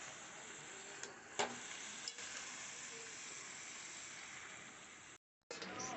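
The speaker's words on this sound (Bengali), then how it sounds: "শাকগুলো দিয়ে এবার একটুখানি নাড়বো, অনেকটাই ভর্তি হয়ে গেছে।" Greens and ridge gourd are stirred in a pan, giving a faint steady sizzle with a few soft scrapes and taps of the spoon, then a short silent break.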